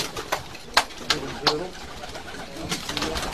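Released pigeons coo in soft, repeated calls, with short bursts of sound and some movement noise under quiet background chatter, heard from a moderate distance.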